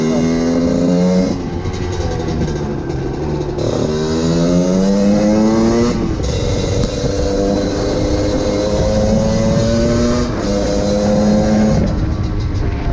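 A 125cc two-stroke motorcycle engine revs hard while riding, its whining pitch climbing and dropping through repeated gear changes. The sound is loud, continuous and close, with no talking.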